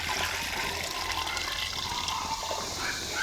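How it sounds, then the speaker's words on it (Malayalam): Water is poured into a pot of salted cassava pieces, a steady close gush of liquid running without pause. "പിന്നെ കപ്പ മുങ്ങിക്കിടക്കാൻ പാകത്തിന് വെള്ളവും കൂടി ഒഴിച്ചു കൊടുക്കുക"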